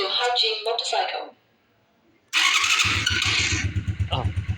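A Haojue 4 motorcycle engine starts by fingerprint ignition and settles into a steady, throbbing idle close by, after a brief silence, with someone talking before and over it.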